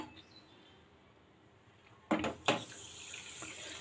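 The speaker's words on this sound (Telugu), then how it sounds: "ఒక కప్పు పంచదారకి ఒక కప్పు వాటర్ వేసుకోవాలి" Quiet room tone, then two short splashy bursts of water being poured into sugar, trailing off into a brief trickle.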